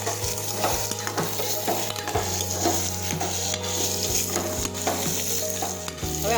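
Stuffed ridge gourd sautés in a pressure cooker with a constant close sizzle and repeated stirring scrapes and clinks against the metal, alongside a low steady hum.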